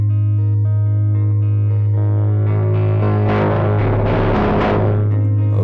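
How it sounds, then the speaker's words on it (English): A sine wave frequency-modulated by an electric guitar sample, starting as steady sustained tones and swelling midway into dense, gritty distorted bursts that stay loud to the end. "as you can hear, you get this kind of distortion sound"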